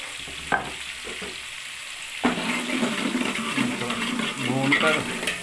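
Garlic ginger paste sizzles loudly as it hits hot oil in a pan and is stirred steadily, with a clatter of the spoon before the paste goes in, for a vegetable pulao.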